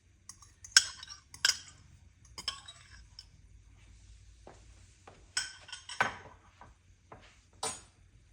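A whisk or spoon clinking against a bowl while two eggs are beaten into batter, a handful of sharp, close knocks at irregular intervals over a quiet background.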